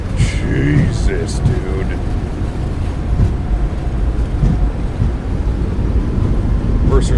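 Boeing 737 MAX 8 thrust reversers roaring on landing in a flight simulator, a loud continuous low rumble and wind-like roar filling the whole stretch, with a brief spoken exclamation near the start.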